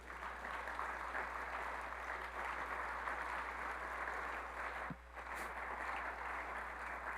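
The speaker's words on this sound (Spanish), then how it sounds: "Den un aplauso al Señor por eso." A church congregation applauding, a steady wash of clapping from a crowd heard at some distance, with a brief dip near the end before it resumes.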